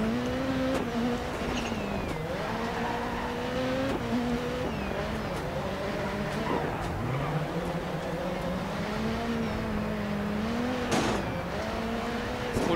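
Rallycross car racing in the video game DiRT 4, with a steady, loud engine whine rising and falling through gear changes as the car accelerates, plus brief tire and impact noises over continuous engine drone.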